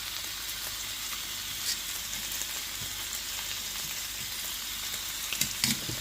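Food searing in a pan pressed under an Artisan Sear Press, a loud, steady sizzle and hiss of frying with a few faint clicks and scrapes, no speech.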